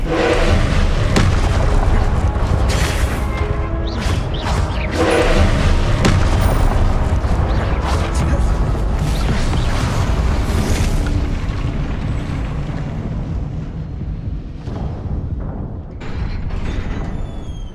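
Confringo blasting spells in Hogwarts Legacy set off a continuous barrage of heavy, rumbling explosions and booms, loud and dense, easing slightly near the end.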